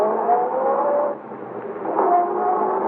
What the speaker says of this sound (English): she's sending the big car roaring down the driveway